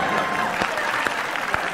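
An audience claps at a live stage performance, a steady wash of applause throughout with a few sharper hand claps standing out.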